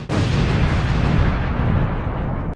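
A single loud, close explosion roars as a dense rumbling blast that holds steady for about two seconds and then cuts off sharply, with no voices.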